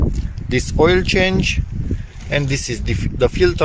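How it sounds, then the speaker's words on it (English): Blustery outdoor wind buffets the microphone with low rumbling gusts during an oil and filter change on a Volkswagen Lupo 1.4 16-valve petrol, heard under someone talking. "sorry about the wind, nothing that I can do about it"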